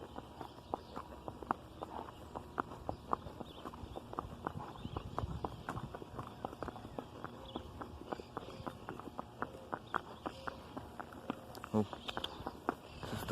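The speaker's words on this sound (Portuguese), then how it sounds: "Cavalo mansinho." A tame horse walking on a farm, its hooves clip-clopping faintly in a loose irregular rhythm, with scattered small knocks and rustles around it.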